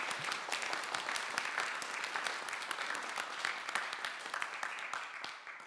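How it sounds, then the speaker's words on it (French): An assembly at a colloquium applauds warmly, steady crowded clapping filling the room for several seconds before easing off at the end. "je demande à l'Assemblée d'applaudir une nouvelle fois Monseigneur Villemin"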